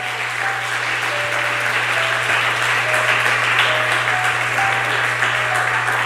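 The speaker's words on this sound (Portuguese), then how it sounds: "Aplauda ao Senhor Jesus mais uma vez" A church congregation claps and applauds loudly during a sermon, a dense, continuous wash of hand claps that runs unbroken from start to finish.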